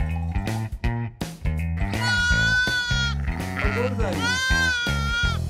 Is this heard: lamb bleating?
yes